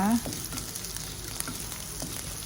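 Green chilies frying in oil while cooking a spinach and potato curry, a quiet, steady sizzle with faint stirring and a brief tonal sound at the start, close, with no talk.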